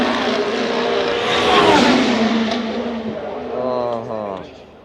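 Formula 1 cars in qualifying at the Australian Grand Prix in Melbourne whine past, their engine pitch rising and falling. A second car's tone climbs near the end, and voices talk over the noise.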